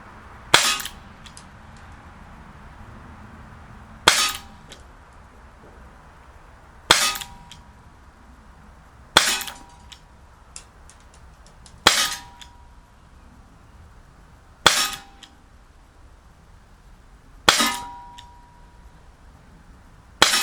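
Umarex Colt M45 CQBP blowback CO2 BB pistol fired at steel targets outdoors: seven sharp, loud cracks with metallic pings, spaced roughly every two to three seconds with quiet between.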